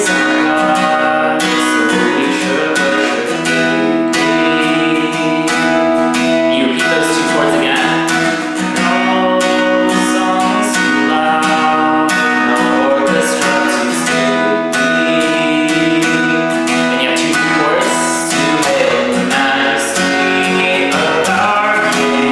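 A guitar plays the verse of the worship song Oh Great Is Our God, a full, steady strummed chord progression sounding close and continuous with no voice over it.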